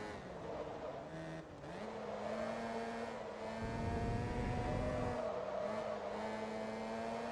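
A Suzuki Swift engine drones steadily in Forza Motorsport 2 during a Japanese Class B regional race. The pitch dips at a gear shift, then climbs and holds a smooth, continuous note, close and alone without talk.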